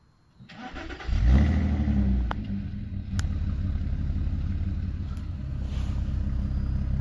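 A car engine cranks and catches, then revs up hard and settles into a sustained, loud mid-pitched roar, with the throttle held open close by.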